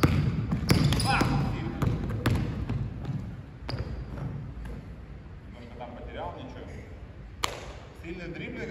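A basketball is dribbled on a court during a dribbling and first-step workout, with sharp, irregular bounces that are louder at first and sparser later, while voices talk in the background.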